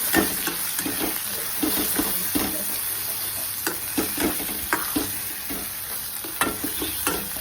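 Spiced potato bhaji masala sizzles in oil in a pan, a close, steady frying hiss broken by soft spatula scrapes and stirs at an irregular rhythm.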